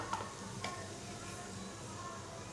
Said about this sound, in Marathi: तेल गरम झालेलं आहे आता मी चिमूटभर हिंग जिरं